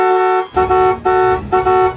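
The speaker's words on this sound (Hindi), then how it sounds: "हॉर्न बजाना नहीं हटती तो उड़ा दे।" A vehicle horn sounds loud and close as a series of four blaring, tonal honks in quick succession, each cut off by a brief gap.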